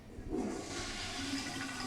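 A toilet flushes in an animated comedy, a steady rushing swirl of water filling the short moment at close range, with no talking over it.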